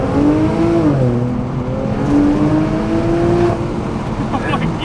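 Engine of an Infiniti Q60 revving, a loud, close, sustained drone whose pitch climbs and dips across several rises, with voices talking faintly underneath.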